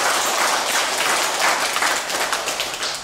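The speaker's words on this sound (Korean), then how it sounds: "모두 큰 박수로 스님을 환영해 주시기 바랍니다." An audience at a Buddhist dharma gathering applauds to welcome a monk, a dense continuous wash of clapping filling the room, fairly loud and steady, with no speech over it.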